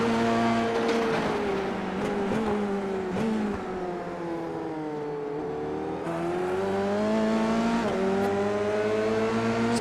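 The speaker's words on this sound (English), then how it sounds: "You could hear the engine from Sinisi's car before we could actually see him" An F3 race car's engine, heard onboard at Auto Club Speedway, roars loud and close throughout, its pitch climbing and dipping as it accelerates and shifts.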